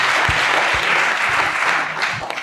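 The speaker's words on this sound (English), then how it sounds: "So, a big round of applause" Audience at a global health institute symposium breaking into applause, a dense, close wash of clapping that holds steady for the whole moment, with a few louder individual claps standing out.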